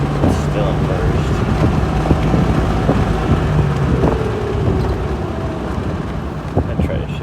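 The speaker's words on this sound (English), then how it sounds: "Sure holds on to first gear. It's still in first." A 2000 Jeep Wrangler held in first gear, with a loud, steady engine drone and heavy rumbling wind and road noise close to the microphone, without a break.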